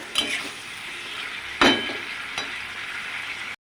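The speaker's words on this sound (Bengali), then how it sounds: "উচ্ছে আর আলুর খোসা আছে এটা ভাজবো" Bitter gourd and potato peels frying in a pan at home, a steady close hiss of sizzling oil with a few louder crackles and stirring scrapes partway through, no talk.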